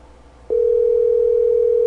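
A steady telephone dial tone starts abruptly about a quarter of the way in and holds loud and unbroken to the end, with no talk over it.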